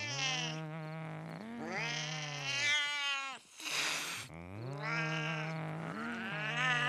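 Cartoon cats fight and caterwaul in the animated series Family Guy, with long, loud, wavering yowls and screeches, a brief harsh hiss in the middle, then more drawn-out howling.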